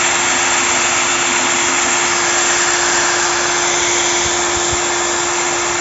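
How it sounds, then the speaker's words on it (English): A headlight lens being polished with a power polisher during a headlight restoration, giving a steady, loud, continuous whir with a constant tone and no talk. "So yeah, that's me polishing it."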